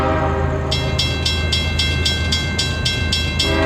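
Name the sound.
unit train passing near Plant City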